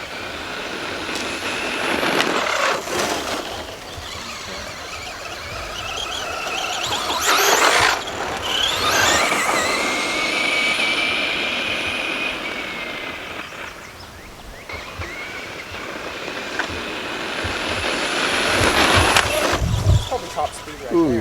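A two-wheel drive Traxxas Slash RC car speeds down a road, its high-pitched motor whine and tire squeal rising and falling as it passes, with voices talking over it.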